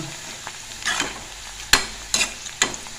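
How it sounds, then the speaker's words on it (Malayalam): Onions sizzling in a pan under a steady frying hiss, with several sharp clatters of a spoon stirring against the pan. "ഉള്ളിയൊക്കെ ഒന്ന് പൊരിച്ച് കോരട്ടെ കേട്ടോ"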